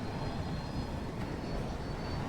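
Continuous broadband roar of aircraft engines in Battlefield 2042 on a rainy map, a steady wash of jet noise with no speech.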